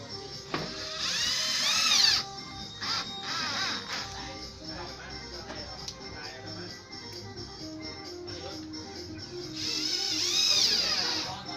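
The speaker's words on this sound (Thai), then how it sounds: "เรา มา เจาะกล่องบล็อกครับยึดกับยึดกับไม้อัดนะครับ" Bursts of a power drill whining and ratcheting in close range as an electrical box is fastened to plywood, separated by clicks and handling noises, with someone speaking between bursts.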